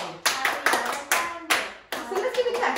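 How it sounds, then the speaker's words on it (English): Hands clap out the syllable rhythm of the name Ariana Grande in a children's rhythm lesson, a short group of sharp close claps in an uneven pattern, some quick pairs and some spaced apart. "Let's clap Ariana Grande's name."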